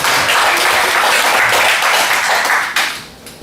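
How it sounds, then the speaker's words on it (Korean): Loud, dense clapping from a church congregation at a Wednesday worship service, sustained for a few seconds before tapering off near the end. "우리 박수 한번 쳐드리십시오."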